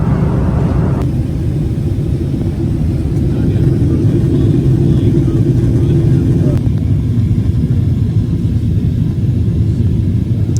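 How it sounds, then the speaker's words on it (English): Inside a Delta airliner cabin descending into Atlanta, a loud, constant low engine and air rumble fills the space without letup for the whole stretch. "Here is us starting our descent into the busiest airport in the world."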